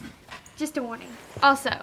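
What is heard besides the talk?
dog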